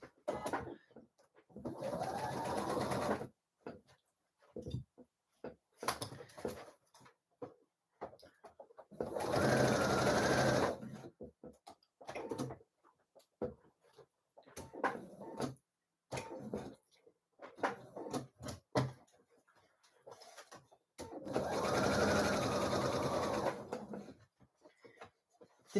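A domestic sewing machine stitches a dress seam in several bursts of fast, even whirring, each a few seconds long, separated by pauses with light handling noises, close and clear with little talk.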